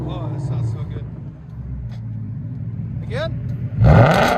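A Ford Mustang GT 5.0L Coyote V8 with a Corsa exhaust idles with a low burble under nearby talk, then blips up in pitch and roars loudly with a sharp, throaty rev at the end.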